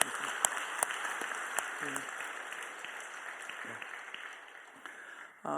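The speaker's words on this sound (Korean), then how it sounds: "우리 감사의 박수를 드리겠습니다" Sustained applause from a large congregation fills a reverberant church, dense and steady, with a few sharper claps standing out before it tapers off.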